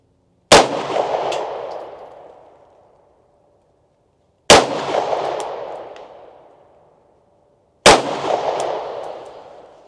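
Three loud, sharp pistol shots at outdoor target practice, spaced roughly three to four seconds apart, each a hard crack followed by a long decaying echo into silence.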